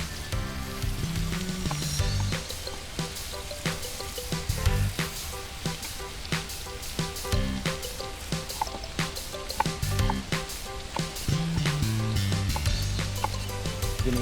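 Roughly chopped santol dropped into a pan of frying meat, which sizzles steadily, close and loud, with clattering knocks and scrapes of stirring throughout.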